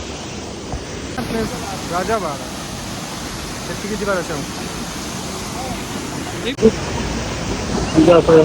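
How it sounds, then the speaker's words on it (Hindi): Strong rushing water at a waterfall roars as a steady broadband wash throughout, with people talking over it close by. "लगता है बहुत तेज पानी आ रहा है आज"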